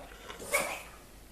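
A dog gives one short bark or yip, fairly faint, against quiet background noise with no one talking over it.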